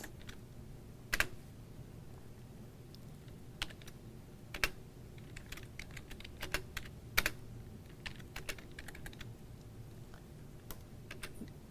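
Typing on a computer keyboard while entering C++ code, with scattered keystrokes in irregular bursts, some louder clacks standing out over a low steady room hum, no talking.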